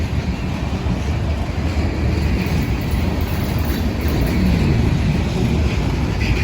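A BNSF freight train rolls past in a loud, continuous low rumble of wheels and wagons that holds steady and swells slightly toward the end, with no voices.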